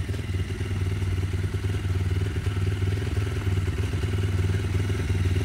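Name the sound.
Varetti VR 150cc motorcycle engine idling to warm the oil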